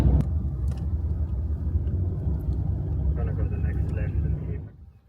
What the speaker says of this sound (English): So we're just driving into Baradine.